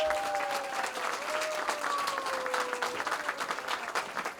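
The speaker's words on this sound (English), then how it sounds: "Please give him a warm round of applause" An audience at a Hispanic Heritage Month event at a museum welcomes the host with warm applause, a steady stream of many hands clapping, thinning into scattered claps toward the end.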